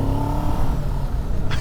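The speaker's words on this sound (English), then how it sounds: "let's get into the actual running engine" A 2024 Kawasaki Z7 Hybrid motorcycle engine runs close by with a loud low rumble and a brief rising rev tone, steady and throaty over the short stretch.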